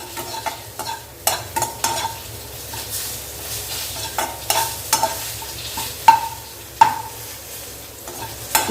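Ingredients for a homemade golden face oil are sautéed in a pan to drive off moisture, with a steady sizzle under repeated scraping stirs and sharp metallic clinks of a spoon against the pan.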